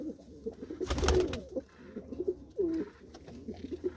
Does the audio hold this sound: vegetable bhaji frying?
no